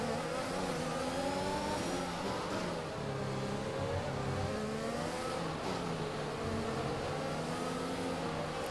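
A Formula 1 car in the F1 2021 racing game roars at full power on the Baku street circuit, its engine pitch climbing and dropping through gear shifts in a continuous loud whine with no talking.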